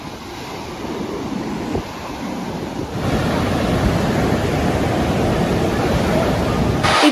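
Sea waves wash continuously onto a flooded shore under a high sea, a loud broad rushing roar that swells stronger partway through, with wind buffeting the microphone.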